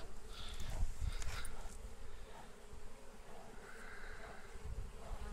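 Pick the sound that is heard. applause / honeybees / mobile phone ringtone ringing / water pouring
honeybees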